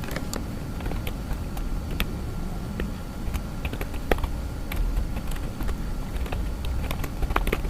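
A computer keyboard clicks in uneven bursts as C code is typed, the keystrokes soft and close against a quiet background.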